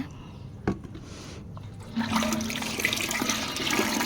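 Borewell water pours steadily into a container of buttermilk, a continuous splashing rush that starts after a brief quiet moment and keeps running close by.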